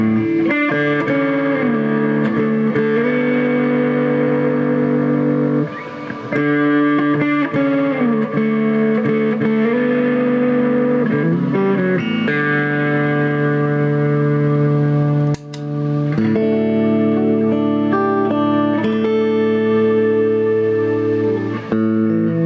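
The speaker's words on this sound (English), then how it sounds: "the guitar, straight through guitar, is right up front, and the reverb and the distortion are in the background" An electric guitar plays sustained chords and melodic lines, the dry straight signal up front with reverb and distortion blended behind it, loud and continuous with two brief dips.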